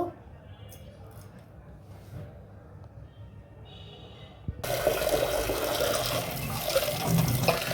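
Foxtail millet rice washed in water: after a quieter stretch with faint voice, a tap gushes on and water splashes and sloshes continuously at close range.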